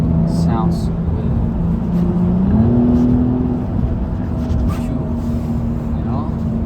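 A BMW M235i engine hums and swells while driving, its tone rising in pitch partway through as the revs climb, heard from inside the cabin as a steady drone with brief faint sounds over it.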